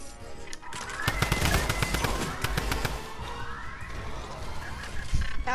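A Tommy gun in Fortnite rattles off a long, rapid burst of closely spaced, sharp shots, loud and near, followed by scattered further bangs.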